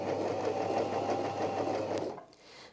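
A Janome J3-18 sewing machine stitches a bar tack in a steady, fast rhythmic whir of needle strokes, close and loud for about two seconds, then stopping abruptly into near quiet with a faint mechanical tail.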